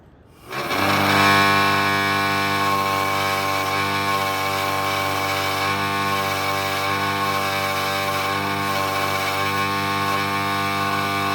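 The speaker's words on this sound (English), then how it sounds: "That's the head bolts, so I'll go wire wheel them up, clean them up." A bench wire wheel spins steadily, grinding rust and grime off the head bolts of an engine from a John Deere 2010 track loader that sat for over 20 years, a loud continuous whine that holds throughout.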